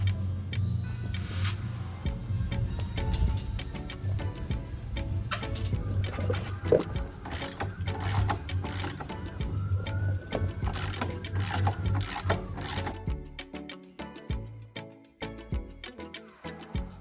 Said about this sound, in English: Let's put this wheel back on.